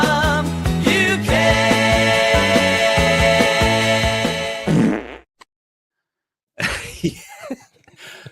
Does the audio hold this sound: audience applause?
no